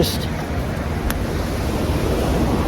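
Large ocean waves break on the shore in a continuous loud roar of surf, heavily buffeted by wind noise on the microphone.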